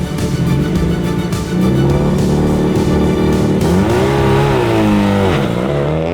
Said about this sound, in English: Leading the way onto the stages are the championship leaders, Mailloux and Poirier.